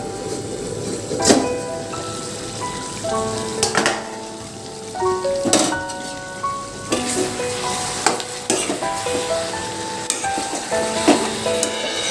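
Chicken pieces frying in an uncovered pan for a home-style chicken curry, sizzling steadily with periodic stirring scrapes and soft clinks of a utensil against the metal, close and clear with no talk.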